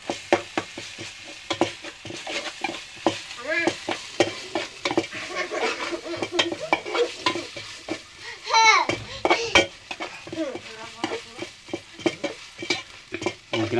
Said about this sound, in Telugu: పచ్చివాసన పోయినంత వరకు బాగా కలిపేసుకోవాలి.